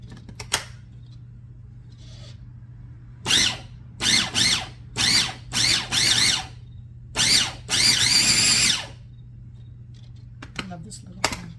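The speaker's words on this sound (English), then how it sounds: "They want us to pulse it for about 8 seconds until the olives are finely minced." Food processor pulses black olives in a kitchen with about seven short loud whirring bursts in an uneven rhythm, the last one held longer, over a low steady hum with quiet gaps between bursts.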